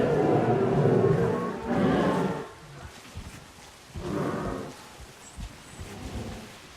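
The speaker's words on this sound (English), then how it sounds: "Uh-oh, it's raining." Rain falls in the dinosaur-park game Jurassic World Evolution as a soft steady patter, with heavier rumbling swells rising and fading over it.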